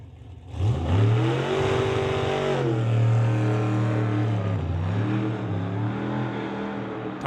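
A Roadster drag race car runs down the strip, its engine roaring loudly and close. The pitch climbs, dips as the throttle lifts, then climbs again before settling into a steady drone as it coasts.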